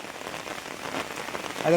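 Heavy rain pours all around a village home, a dense steady hiss of drops striking surfaces close by, swelling slightly toward the end.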